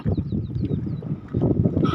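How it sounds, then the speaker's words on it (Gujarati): A steady low rumble of a running diesel engine, with faint high chirps above it and no speech, beside a river. "તો આ છે એ ડીઝલ એન્જિન છે"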